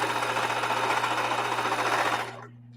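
A sewing machine stitching quilt blocks made from jeans, a steady, loud mechanical whir with a fast regular needle rhythm, running close for a couple of seconds before stopping abruptly, with no voices.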